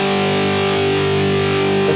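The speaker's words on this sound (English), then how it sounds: "I've got an amp dialed up here with a full dose of distortion" A loud, sustained distorted electric guitar chord from a humbucking pickup rings out thick and buzzing through an amplifier, holding steady for about two seconds.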